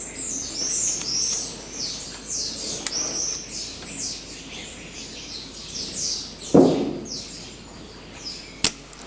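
Small birds chirp and tweet continuously in a busy chorus inside a farm barn, feeding on silage, with a couple of sharp knocks and a soft thud partway through.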